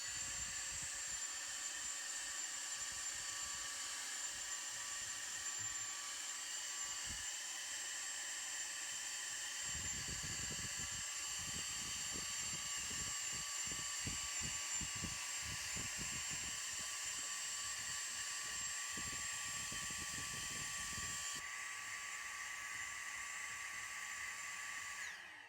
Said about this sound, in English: Let's grab the vacuum and vacuum it.